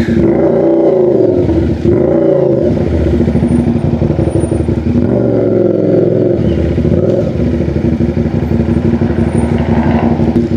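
A CFMOTO 450SR sports motorcycle manoeuvres slowly at night, its engine idling and revving in short blips before settling into a steady loud drone, heard up close with no talking.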